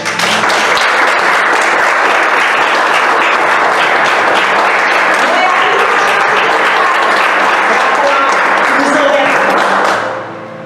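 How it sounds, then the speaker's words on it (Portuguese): Church congregation gives sustained, loud applause filling the room for about ten seconds, then tapers off at the end, with voices mixed into the clapping. "Quem é que dá uma salva de palmas à palavra de Deus?"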